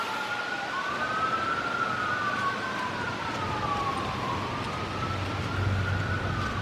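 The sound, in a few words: ambulance siren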